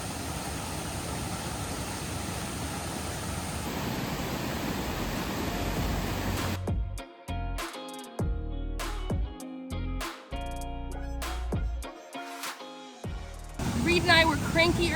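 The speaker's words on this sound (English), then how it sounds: "The sound of the roaring water is so nice." Roaring water of a waterfall on a Porcupine Mountains or Bond Falls trail in Michigan's Upper Peninsula, a dense steady rush for the first half before it breaks into choppy, intermittent fragments and returns loudly at the end.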